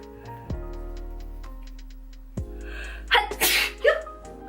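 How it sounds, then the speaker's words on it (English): A single loud, close sneeze bursts out near the end of a chatty makeup session, over a steady low hum with faint rhythmic ticks. "oh, I gotta sneeze"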